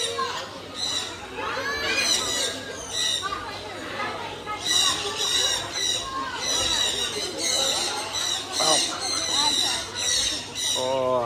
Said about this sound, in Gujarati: અહીંયા બધા પોપટ આવેલા છે અલગ અલગ